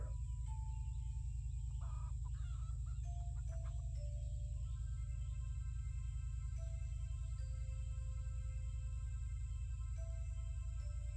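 Chickens cluck steadily in the farming video game Garden Paws, a string of short tonal fowl calls over a constant low game-music drone, with no talking.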